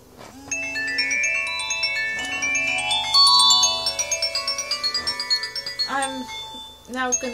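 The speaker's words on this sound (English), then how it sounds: "I've got a phone call now and I'm not gonna take it." A mobile phone ringtone plays nearby as a melodic electronic tune with stepping notes and a rapid pulsing passage, fairly loud and alone with no talk.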